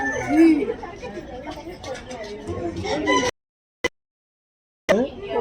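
Several chickens cluck and chatter close by at a bird park in Trichy, mixed with people talking. The sound cuts out briefly into silence, then the clucking resumes.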